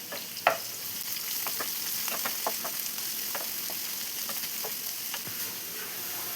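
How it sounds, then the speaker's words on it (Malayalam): Onions frying in oil with curry leaves and crushed garlic, a steady close sizzle broken by frequent light scrapes and clicks of a spatula stirring the pan. "ഇനി ഇതെല്ലാം കൂടെ ഒരു ഗോൾഡൻ ബ്രൗൺ കളറാവുന്ന വരെ ഒന്ന് വഴറ്റിയെടുക്കാം"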